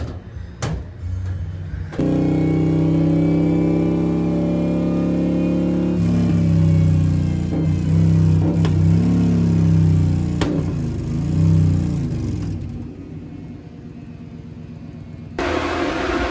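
Motorcycle engine on a dyno roller after a full system exhaust install and ECU remap, revving loudly in a sustained droning run with fluctuations, framed by short quieter bursts at the start and end.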